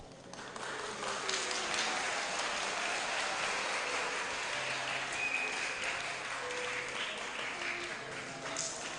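Children's church service congregation claps in sustained, dense applause, steady and fairly loud throughout, with a few voices faintly mixed in.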